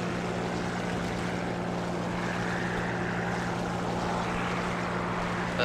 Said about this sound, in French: Le son du moteur, pourtant, il est à fond.